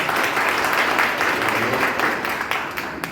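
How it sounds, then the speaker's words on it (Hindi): Steady applause from a crowd, a dense wash of clapping that holds at an even level throughout. "ताली क्यों बजाया आपने?"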